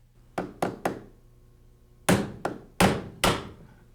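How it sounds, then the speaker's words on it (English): Sharp metallic-wooden taps from a hammer striking a putty knife while installing a window in a wood wall, three quick hits, a pause, then four more, close and clear with no talking. "give it a couple taps with a hammer"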